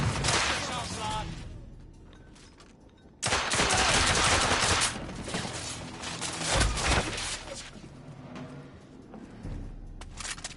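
Heavy video game gunfire with sustained machine-gun bursts and crashing impacts, loud stretches broken by a quieter lull, voices shouting over the combat.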